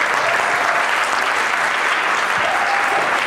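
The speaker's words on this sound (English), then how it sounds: "I would like everyone to give a round of applause to everyone who has made this possible" A theater audience at a Malaysian cultural night show claps loudly and continuously, a thick unbroken wall of applause with a faint tone briefly audible through it.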